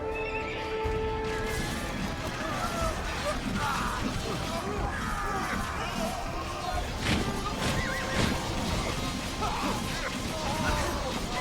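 Horses neigh and whinny amid the clatter of hooves and the crash and thwack of battle in the Age of Empires 2 video game, a dense, continuous mix with speech.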